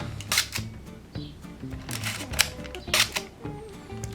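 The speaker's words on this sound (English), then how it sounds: "The shutter sounds a little bit like this." Minolta Hi-Matic AF2 compact film camera firing its shutter: a series of sharp, close mechanical clicks and raspy snaps at irregular intervals, with quiet room noise between them.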